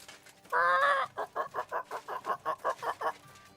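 A voice imitates a chicken, a long squawk followed by about ten rhythmic, evenly spaced clucks, fairly close and alone without other talk.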